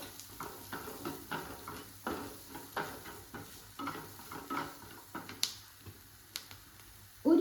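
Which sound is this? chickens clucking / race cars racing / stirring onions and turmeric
stirring onions and turmeric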